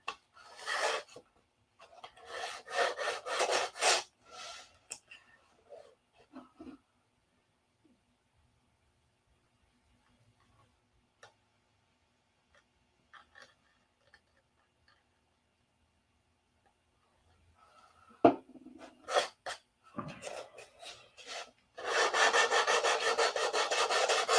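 Bursts of rhythmic rasping strokes of hand sanding wood in a garage, separated by long quiet stretches, then a sustained loud stretch of sanding at the end.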